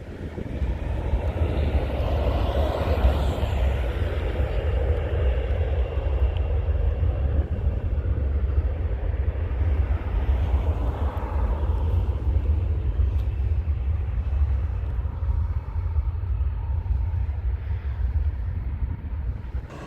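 A loud, steady aircraft roar rumbles throughout, swelling and shifting in pitch as the plane comes down and touches down.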